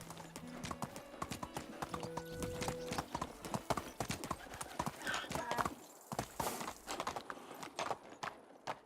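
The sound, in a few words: horse hooves clip-clopping while riding in video game Medieval Dynasty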